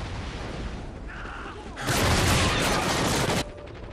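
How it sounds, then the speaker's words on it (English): Fireworks outside burst in a sudden crackling volley of rapid pops lasting over a second, loud and dense, over quieter game noise. "what that is fireworks"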